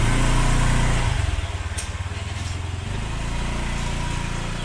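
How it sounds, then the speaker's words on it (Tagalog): Several motorcycles run close by, a loud low engine drone that thins after the first second into a steady, pulsing idle with no talking. "Mga man, dami motor oh. Puro mga kiligang motor dito."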